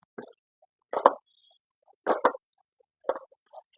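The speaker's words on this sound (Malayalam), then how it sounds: "സോയാബീൻ ഇട്ട് കൊടുത്തു." Soybeans dropped into a cooking pan, four soft separate plops and clatters spaced about a second apart, close and quiet in otherwise silent surroundings.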